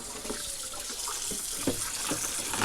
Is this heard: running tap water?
yes